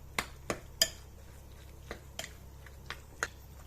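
A spoon works through semolina dough in a bowl, giving a series of light, sharp clinks and taps against the bowl at irregular intervals over a quiet background.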